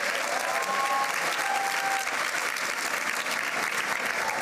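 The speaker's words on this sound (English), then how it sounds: "how about another round of applause for Lisa Hughes" An audience at the New England Women's Leadership Awards gala in 2018 gives Lisa Hughes another round of applause, a full, even roar of many hands clapping that holds steady throughout with faint crowd murmur mixed in.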